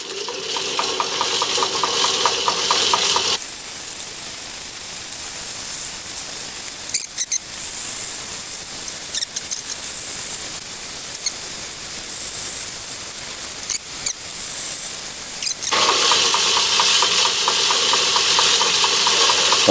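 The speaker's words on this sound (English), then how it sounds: "I'm just about to give the internal threading tool a go now. The lathe's all set up, it's in back gear" A metal lathe in back gear cuts an internal thread with a carbide insert threading tool, giving a steady mechanical hum with a bright whine at the start and end and occasional sharp clicks.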